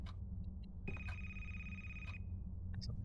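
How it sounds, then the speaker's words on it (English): An old telephone bell rings in the horror game A Place, Forbidden, a single trilling burst of about a second amid a quiet, low-humming room, with faint clicks around it. "Oh, I hear a phone."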